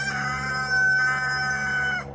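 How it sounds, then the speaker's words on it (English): A rooster crows once in a long, sustained call lasting about two seconds, loud and close, heard on its own in a summer garden. "I decided to name my rooster Paulo."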